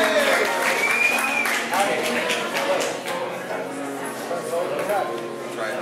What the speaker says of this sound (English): A little bit of applause would be appropriate,